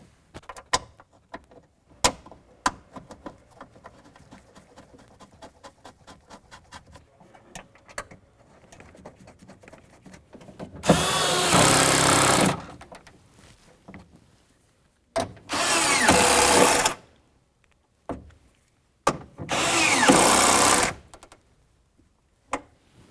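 A power tool whirs in three loud bursts, tightening window regulator mounting bolts inside a 2003-2007 Honda Accord door, after a stretch of quiet clicks and handling noises.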